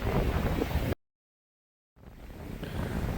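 Strong wind buffets the microphone in a loud, rumbling roar in Scotland, breaks off into a second of silence, then resumes just as harsh.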